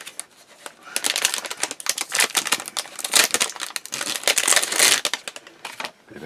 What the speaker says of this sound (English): Bit of a crinkly bag, that one.